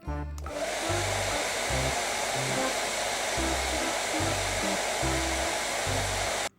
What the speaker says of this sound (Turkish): Saçlarını güzel bir fönleyelim.